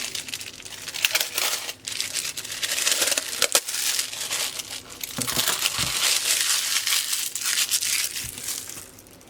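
New Accuquilt GO! cutting dies are unwrapped from their packaging, with close, busy crinkling and tearing of plastic and sharp rustles continuing throughout.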